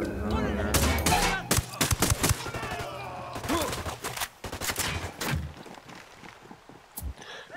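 A firefight in the open-world shooter Ghost Recon Wildlands, with sharp bursts of rapid gunfire and single shots cracking loudly in clusters, some overlapping with someone talking and footstep-like thuds, then thinning out to a sparse final shot.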